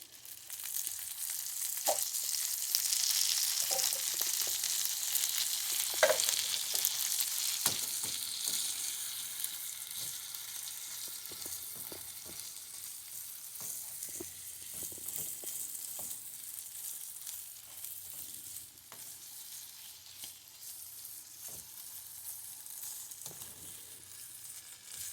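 Steady crackling sizzle of food frying in a pan, with occasional sharper pops and utensil clicks, close and continuous with no talking.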